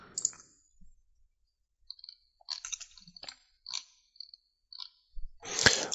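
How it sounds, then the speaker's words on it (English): Mouse clicks on a computer running QGIS GIS software, heard as a scattering of faint, close, dry ticks in near silence, ending with one sharper, louder click. "then you can just click on run"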